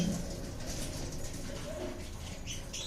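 Pigeons cooing at a bird sale, soft low coos rising over a busy background murmur across the short stretch, close to the listener.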